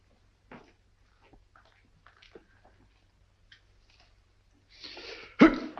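Near the end, a short, sharp sneeze bursts out after a quick inhale in a chilly room in a 1942 film, following a mostly quiet stretch with faint rustles and breaths.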